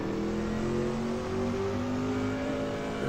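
A race car being driven on a track, its engine droning steadily throughout with rising and falling harmonic tones as it accelerates, close and continuous with no voices.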